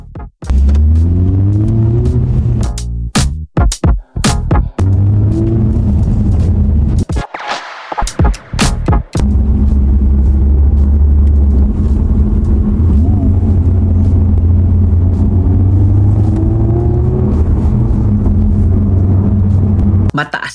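A Honda Civic Type R FL5 on a test drive accelerates hard, its engine a loud, close, steady drone that climbs in pitch through the gears, with a few brief cut-outs early on.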